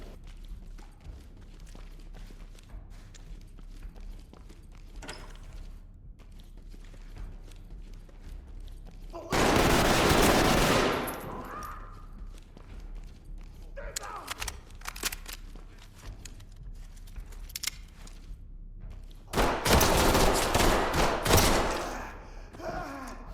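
Pistol gunfire in the tactical shooter Ready or Not on a hospital level: two loud, dense bursts of shots stand out against a quiet background of footsteps and ambience.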